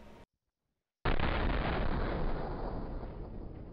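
Gunfire in the Trouble in Terrorist Town video game: a short gap of silence, then one sudden, loud, heavy blast that rumbles on and slowly fades over the next few seconds.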